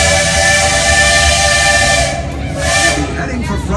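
A steam train whistle sounds loud and close at the Main Street station of the Disney World railroad, a sustained shrill tone joined by hissing steam that dips and swells again near the end.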